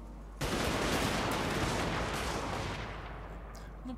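A musket volley from Total War: Warhammer II erupts as one sudden loud blast, then rumbles and rolls out over several seconds.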